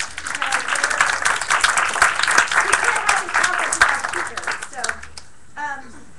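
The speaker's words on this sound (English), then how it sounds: "So round of applause for speakers." A conference audience applauds speakers at a keynote event, a dense sustained clapping that fades out near the end before a voice begins speaking.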